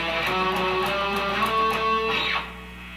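Electric guitar plays a double-stop lick from a guitar solo, sustained bright notes with bends, moderately loud and alone, fading out near the end.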